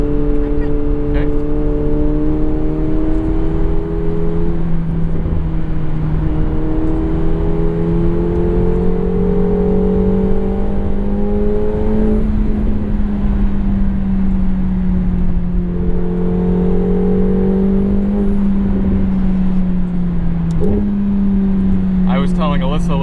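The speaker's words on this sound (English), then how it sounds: "Now that the exhaust is warming up a little bit, we're hearing some of those pops and burbles." A McLaren 750S drones steadily at cruising speed, engine tone rising and falling with throttle and shifts, and a brief crackle near the end; a voice talks over the engine noise.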